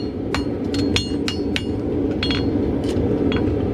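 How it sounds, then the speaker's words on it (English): A farrier's hammer peen strikes a horseshoe against the corner of an anvil while shoeing a dressage horse, giving about nine sharp, ringing metallic hits in an uneven rhythm over a steady background rumble. "Hitting in the same spot, with the peen of the hammer into the corner of the anvil."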